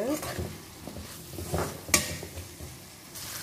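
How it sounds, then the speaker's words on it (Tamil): Onion and garlic sauté in hot oil, crackling close up while a spoon stirs and scrapes through the pan in short bursts. "இந்த ஆனியனை நல்லா இந்த எண்ணெயில் நல்லா வதக்கிக்கலாம்"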